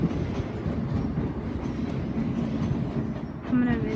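A Class 170 train pulls into Dundee station, its steady rumble and wheel clatter filling the platform and carrying on close by, with a faint squeal rising near the end.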